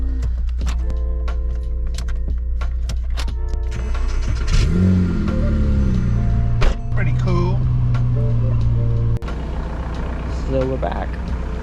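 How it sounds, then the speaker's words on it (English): A car on a road test, suspected of a clutch problem, accelerates with a steady engine drone and a rising, whining noise, while people talk over it inside. "Apparently it has like noise when he accelerates."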